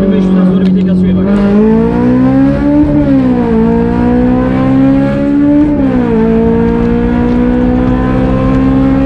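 A Honda S2000 engine revs loud and close, pitch climbing and dipping as the throttle is blipped several times, with a steady strained tone between the rises.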